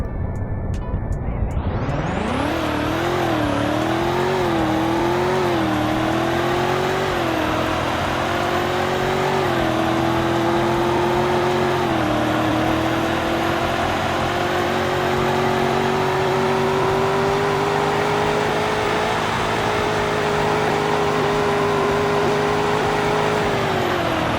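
A car in sport mode accelerates hard during a speed test, engine note rising steadily into a loud sustained drone with shifting harmonics that holds for over twenty seconds, with no talking.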